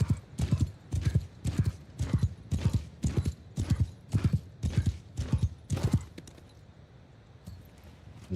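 Horse hooves clop in a steady galloping rhythm for about six seconds, loud and close, then stop as the mount is pulled up in a Skyrim-style fantasy role-playing game, leaving quiet ambience.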